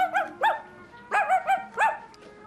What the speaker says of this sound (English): I heard this song once that had dogs barking instead of instruments.